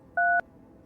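A single short two-tone keypad beep from a phone being dialed in the game No, I'm Not A Human: a clean electronic tone lasting about a fifth of a second, then quiet.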